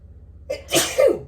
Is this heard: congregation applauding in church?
no